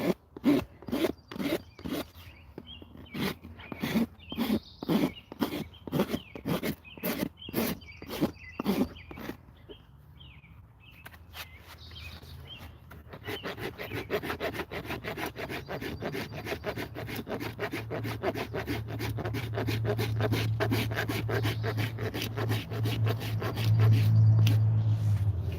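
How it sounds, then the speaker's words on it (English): Rasp strokes across a horse's hoof during trimming, a steady run of rhythmic scraping passes up close, then a pause and a continuous rougher grinding with a low hum beneath. "just slowly sanding and filing it down"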